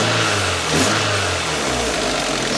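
An MG ZR 160 engine fitted with a cone air filter revs steadily up close, its loud, throaty note rising and falling with no talking.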